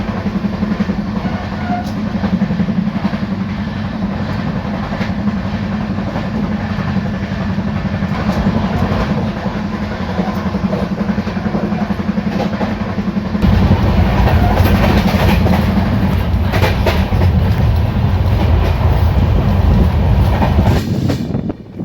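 Steady loud rumble and rhythmic clickety-clack of the 12158 Hutatma Express heard from inside a coach as it runs past Mada station, growing harsher and louder midway through.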